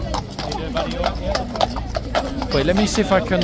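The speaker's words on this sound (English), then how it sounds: "Who is this massive horse?" A large police horse clops along near a crowd, its hooves knocking in an uneven rhythm under a man's close, excited talk.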